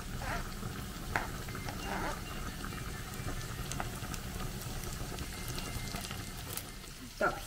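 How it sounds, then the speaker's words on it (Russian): Onions frying in a pan for borscht with beans, a steady soft sizzle running throughout with a few light clinks of utensils, close and moderately quiet, no talking. "лучок у нас вот так вот обжарился"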